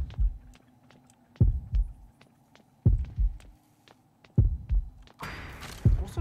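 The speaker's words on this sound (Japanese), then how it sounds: "あれ、心音消えましたね。" A heartbeat warning from the horror game Horrorfield thumps in loud, deep double beats about every 1.5 seconds over a low hum, with faint ticking between beats and a brief burst of noise near the end.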